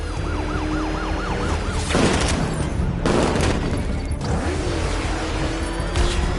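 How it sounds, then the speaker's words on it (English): Gunfire crackles in a Batman video game battle, bursts of shots over a wailing siren and a steady, loud backdrop of game noise, with sharper volleys near two and three seconds. "I can't hold them off alone. Taking fire!"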